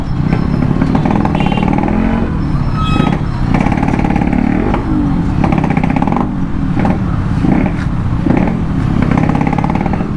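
A Yamaha RXZ motorcycle with a BZY tune revs loudly and close by, its two-stroke engine snarling and pulsing through a continuous rough roar with repeated throttle blips.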